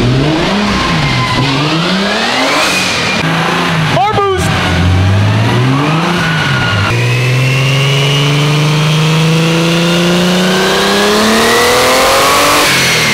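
A loud turbocharged AE86 engine revs repeatedly, pitch climbing and dropping in sweeping pulls, then holding a long rising run near the listener.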